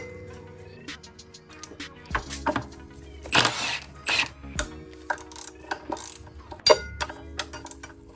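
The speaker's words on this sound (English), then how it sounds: "with this flexible ratcheting wrench, I'm able to get it off" A flexible ratcheting wrench works bolts loose near the brake caliper of a salvaged, crash-damaged Suzuki GSX-R 750 motorcycle, giving sharp, irregular metallic clicks and ticks close by, with a few louder knocks and no talk.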